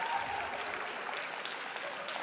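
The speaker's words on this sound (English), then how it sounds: "give them a round of applause" Sustained applause from a conference audience cheering competition winners at an entrepreneurship event, a steady dense wash of clapping that holds at even loudness throughout.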